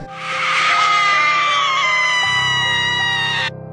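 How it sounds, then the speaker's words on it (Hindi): An old woman lets out a single long, loud, high-pitched scream lasting over three seconds, sustained and close, ending abruptly while a low hum continues underneath. "और उसके बाद वो बुढ़िया अचानक से चिल्लाई"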